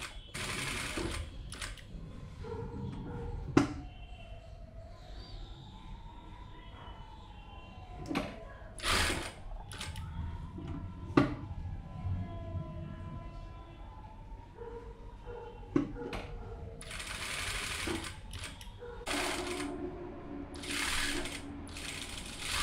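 A sewing machine stitches along a kameez neckline, heard as faint mechanical whirring runs broken by clicks and knocks of handling, fairly quiet and close.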